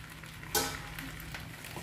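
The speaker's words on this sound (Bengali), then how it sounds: "মুরুল্লো মাছ পাতায় ভাজা কত সুন্দর হয়েছে দেখুন" Sea fish frying wrapped in banana leaf gives a faint low sizzle, with one brief louder crackling burst early on and no voices.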